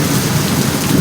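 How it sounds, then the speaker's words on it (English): Heavy rain pours steadily during a thunderstorm, with a continuous low rumble of thunder rolling underneath the dense hiss of falling water, loud and close throughout. "You see the lightning and the thunder is just something else."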